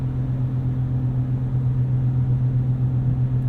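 A 2018 Ford F-150 Power Stroke diesel pickup towing 5,500 lbs uphill gives a steady, loud low engine drone with even tonal hum and no clear shift breaks, heard from inside the cab with no talking.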